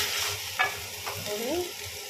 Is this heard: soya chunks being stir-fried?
yes